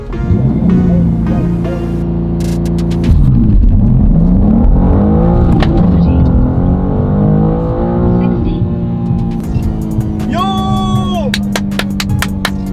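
A BMW G87 M2 launching hard on a 0-60 mph launch-control run, its engine roaring loud and close as it climbs through gears, with sharp shift breaks and rising pitch in each gear.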